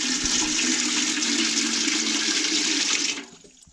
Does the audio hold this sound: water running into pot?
yes